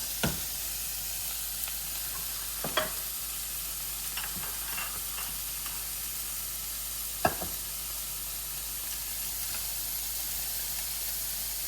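Sausages browning in a pan for linguine give a steady low sizzle and hiss, with a few sharp clicks and scrapes of a spatula stirring now and then; no one speaks.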